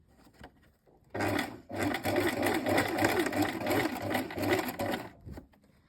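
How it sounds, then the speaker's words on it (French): A sewing machine runs a zigzag stitch (width 3, length 2) back and forth to close a rectangle on the elastic of a trouser waistband. The steady motor whir and rapid needle chatter start after a short pause and last about four seconds, close and loud. "Et donc vous allez coudre un rectangle à ce niveau-ci."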